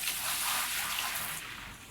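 Water poured out of a bucket in Gold Rush The Game, a faint continuous splashing gush that tapers off near the end, with no talking.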